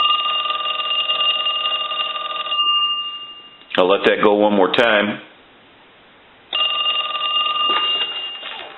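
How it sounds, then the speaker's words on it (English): An old Western Electric Stowaway box telephone bell rings in long steady bursts, pausing briefly, while someone speaks between the rings. "We'll ring the telephone."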